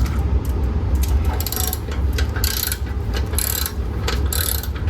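Ratchet clicking with a long Torx T45 bit as it backs out a header bolt on a BMW S1000RR K67 motorcycle, steady close mechanical ratcheting in repeated bursts over a low background rumble.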